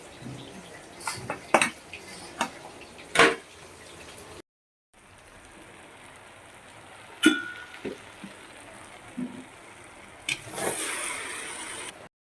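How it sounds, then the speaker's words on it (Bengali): Fish fries and gets stirred in a pan, with sharp metallic clinks and scrapes of a utensil over a soft background hiss, close by and broken by a brief gap. "এখন এদিকে মাছ ভাজা হচ্ছে"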